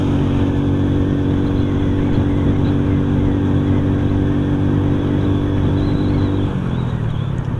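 A Rusi motorcycle engine drones steadily up close, holding an even pitch before it drops off near the end.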